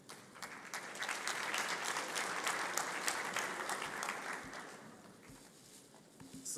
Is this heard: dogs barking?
no